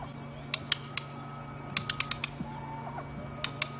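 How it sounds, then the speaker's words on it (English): In the quiet bush on a sunrise safari drive, a bird makes a series of crisp, faint wing and beak clicks, some single and some in quick clusters, over a low steady engine hum. "Do you hear that wing, that beak clicking?"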